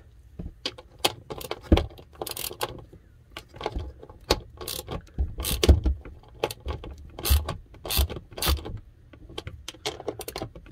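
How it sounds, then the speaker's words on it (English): A small ratchet backs out 8mm screws on a Dometic toilet spring cartridge, making rapid irregular clicking bursts, close and fairly loud, with no talking. "Now, this is these 8mm screws. We've got to get those two out. So I got my little ratchet here."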